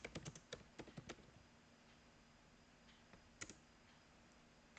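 A run of quick, crisp computer keyboard key presses in close succession at the start, then a quiet pause before one or two isolated clicks, all faint and close.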